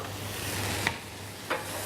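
Crushed garlic sizzling in a frying pan, a constant close hiss of frying with two brief sharp clinks or stirs, no talk.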